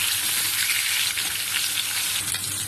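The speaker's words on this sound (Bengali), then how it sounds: "তিন পিস মাছ তেলের মধ্যে দেওয়া হয়ে গেছে" Three pieces of rohu fish fry in hot oil, giving a loud, continuous crackling sizzle with bursts of spatter throughout and no talking.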